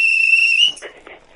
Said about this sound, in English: Not the whistle. Don't blow the whistle.